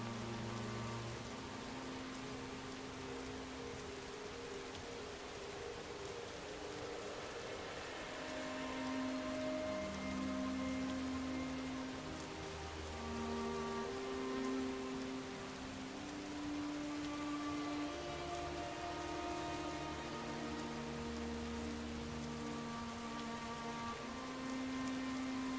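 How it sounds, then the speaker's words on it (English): Steady rain pours across the far western wilds of Solstheim in Morrowind, a continuous hiss under a low, droning ambient music bed, with no voices. "Okay, bad weather all in all. Very cloudy, very rainy."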